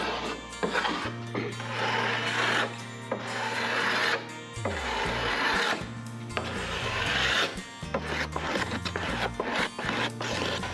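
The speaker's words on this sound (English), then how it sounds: "we're going to use a scraper, and we're going to scrape it just to make sure we get all those little pieces" A hand scraper drawn along a wooden walking stick to clean off leftover sandpaper grit, several long rasping strokes in a row, loud and close, separated by brief pauses, over a low steady hum.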